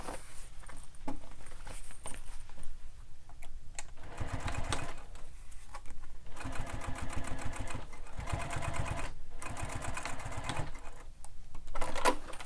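A sewing machine top stitches a fabric sling pack in rapid mechanical bursts, stopping and starting several times with short pauses between runs, close up and moderately loud.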